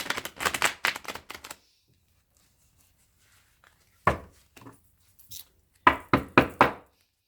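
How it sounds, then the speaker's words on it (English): Quick bursts of tarot cards being riffled, cut and tapped, close and crisp, separated by a few seconds of silence. "one more shuffle I will cut and then we will begin, Leo."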